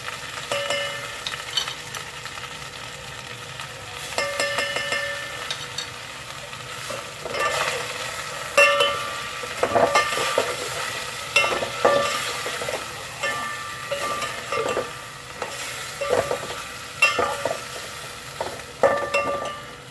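Chicken sizzles and fries steadily with garlic-ginger paste in a pan while a utensil stirs and scrapes, with occasional light clinks against the cookware.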